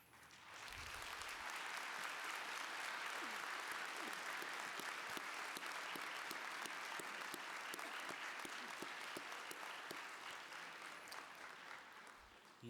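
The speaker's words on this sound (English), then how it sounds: "Graduates, I'm going to ask you to stand up and join in a round of applause for all those people who are here witnessing your successes today." Sustained audience applause at a Millikin University winter commencement ceremony, a steady wash of many hands clapping in a large hall, holding at an even level for the whole stretch and easing slightly near the end.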